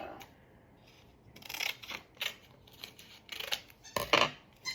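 Scissors snip through a paper name tag in a string of short, crisp cuts, close and clear with quiet pauses between the bursts and no talking.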